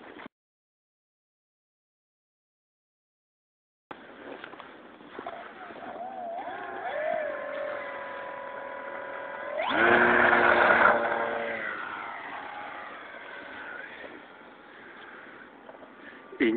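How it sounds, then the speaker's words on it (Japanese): Engine of an MX2 model aircraft buzzing at a steady mid-high pitch, fairly distant, swelling louder as it passes around the middle and fading again, with no talk over it. "エンジン機みたいな音がします ね"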